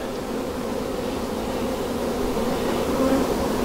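Honey bees hum steadily at an opened hive, a dense, continuous buzz that stays close and fairly loud throughout, with no voices.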